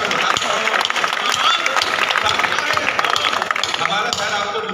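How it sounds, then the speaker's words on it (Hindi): Audience applause at a kavi sammelan poetry gathering in Unnao, a dense steady clapping from a crowd lasting several seconds, with voices mixed in beneath it. "ताली जोर तक बजा दी।"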